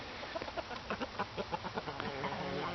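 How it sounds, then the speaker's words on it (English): Several free-range chickens cluck anxiously in quick, uneven bursts close by in a pen, a busy overlapping chatter with no one talking. "They were clucking anxiously the whole time."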